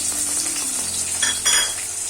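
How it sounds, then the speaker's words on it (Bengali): Sliced onions drop into hot oil in a wok and sizzle loudly, with stirring scrapes and a clatter of the utensil against the pan in a home kitchen. "এখন আমি যে কেটে রাখা পেঁয়াজগুলো দিয়ে দিচ্ছি।"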